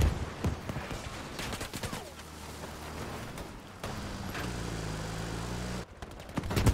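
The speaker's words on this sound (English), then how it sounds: "They put another bombardment." Artillery bombardment in Battlefield V lands as a rapid cluster of sharp blasts at the start, followed by rumbling explosions and distant gunfire that continue on and off at moderate loudness.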